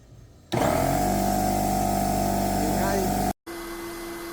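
A 110-volt air compressor starts abruptly and runs with a loud, steady motor drone and hum close by, briefly cuts out, then resumes at a lower, even whine.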